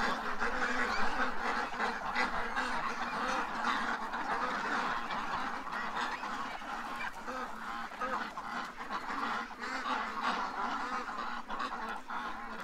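A flock of ducks in their pen, quacking and honking continuously at close range in a dense, overlapping chorus with no pauses, steady and fairly loud throughout.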